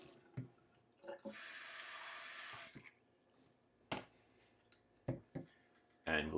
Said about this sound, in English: And it's got to be cold water, so we got to switch back to cold.